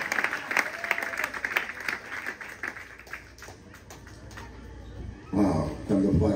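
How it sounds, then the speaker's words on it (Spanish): Congregation applause during a church sermon, scattered claps fading over several seconds, then a louder burst of crowd noise and voices near the end. "Dale un aplauso a la grandeza de Jehová"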